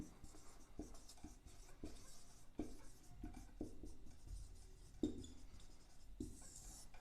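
Chalk or marker taps and scrapes on a board during a physics lesson on mechanical properties of solids, giving a quiet, irregular series of short strokes and clicks with no talking.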